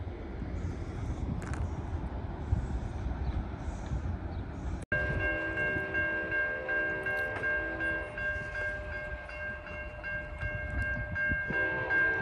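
A train moves past a railroad crossing: a steady low rumble of wheels and cars runs throughout, joined midway by a sustained horn or crossing-bell tone that rings on for several seconds.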